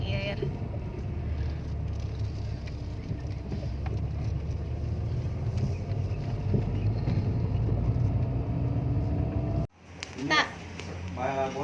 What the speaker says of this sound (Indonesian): Lagi mencari tempat parkir, kita harus muter-muter dulu.